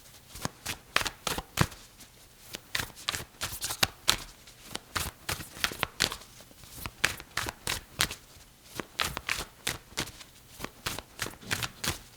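Tarot cards shuffled over and over at close range, a steady run of crisp riffling bursts and soft slaps with brief pauses between, heard alone with no voices.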